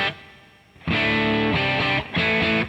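Electric guitar through an Amplitube 5 amp simulator with hall reverb plays two loud strummed chord phrases, each ringing out in a spacious reverb tail, with a short gap between them.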